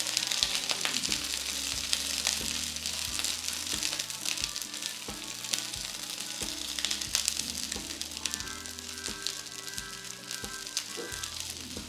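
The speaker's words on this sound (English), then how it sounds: "And so what we're gonna do here with this asparagus is we're just gonna brown this a little bit," Asparagus spears sautéing in a hot skillet, a continuous close sizzle and crackle of frying with a faint low hum underneath, no voices.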